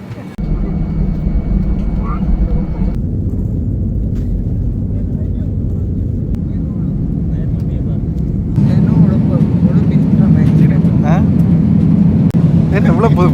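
Steady roar of a passenger airliner cabin in flight, a loud continuous engine drone that swells slightly louder toward the end, with people talking over it.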